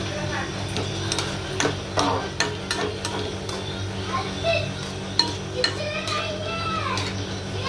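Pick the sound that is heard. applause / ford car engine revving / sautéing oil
sautéing oil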